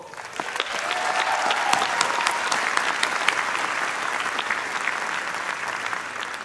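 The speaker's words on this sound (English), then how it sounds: "And I think that deserves a round of applause." A graduation audience applauds parents and families at the Class of 2023 ceremony, steady dense clapping from a large crowd holding evenly for several seconds with no talk.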